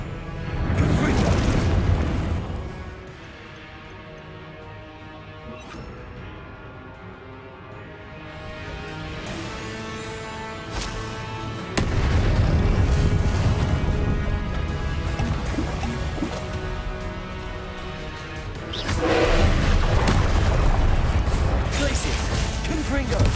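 Fiery spell blasts from Confringo in the Hogwarts Legacy video game, heavy booming bursts over dense battle music and shouted spell voices, with loud surges near the start, middle and end.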